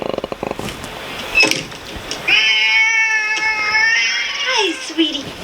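A cat in the 1986 horror film Night of the Creeps lets out a long, clear, drawn-out meow that rises and wavers, with a shorter mew trailing after, heard near and loud over faint background sound.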